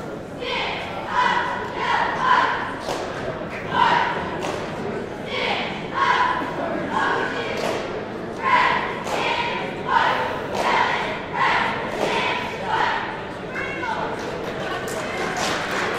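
High school cheerleaders cheer at a basketball game, with rhythmic shouted chants in repeated bursts over steady crowd noise and gym echoes.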